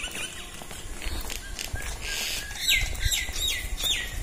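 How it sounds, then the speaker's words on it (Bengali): Common mynas chirp and whistle on a morning street, with bright, repeated calls clustering in the second half over a low background hum. "কত শালিক দেখো সকালবেলা"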